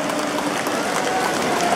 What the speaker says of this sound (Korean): 큰 박수를 좀 부탁드리겠습니다